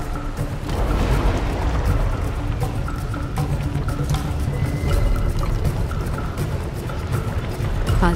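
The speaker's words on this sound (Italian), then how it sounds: "L'acqua si ritira. Devo aver attivato un meccanismo di sicurezza." Water draining away through a triggered safety mechanism in the video game Shadow of the Tomb Raider, a loud continuous rushing and gurgling pour with deep rumbling underneath, without talk.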